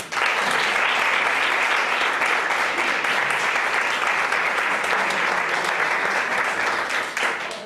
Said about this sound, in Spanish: Pido que la recibamos con un aplauso